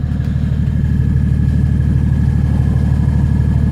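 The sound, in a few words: BMW E39 530d engine exhaust idling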